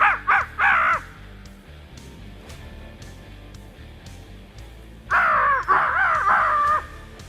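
A crow call, a handheld caller imitating crow caws, blasts out loud and close outdoors during turkey-season scouting: a quick burst of harsh caws, a quiet gap with faint background, then a longer run of raspy caws.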